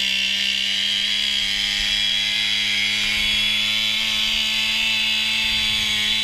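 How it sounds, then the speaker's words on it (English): Steady, loud whine of a chainsaw running continuously while cutting a piano-sized hole through lake ice, with no pauses and no voices. "We had to chainsaw a hole in the ice the size of the piano"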